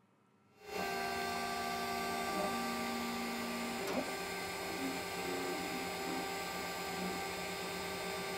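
An Avtek CreoCube 3D printer whirs steadily with high motor tones and shifting stepper hums, starting abruptly after a brief quiet moment and running continuously.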